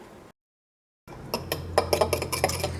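An egg, salt and pepper mixture is beaten in a bowl: a quick run of light clinking utensil strikes against the bowl, close, following a brief silence, with no talk.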